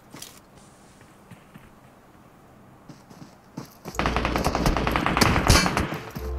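Gunfire in the PUBG video game begins with scattered faint clicks and mechanical creaks, then breaks into loud, rapid automatic bursts that continue to the end.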